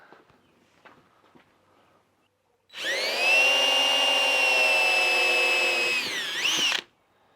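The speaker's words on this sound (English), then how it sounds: "I'm going to go ahead and pre-drill it before I put my wood screws in it" A power drill pre-drills a hole in plastic for wood deck screws on a plant stand built from an old wooden ladder. One sustained high whine runs about four seconds, loud and close, and shifts in pitch just before it stops.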